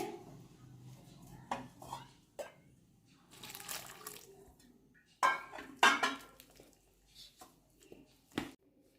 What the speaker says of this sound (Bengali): আমি একটা চামচের সাহায্যে মেখে নিচ্ছি।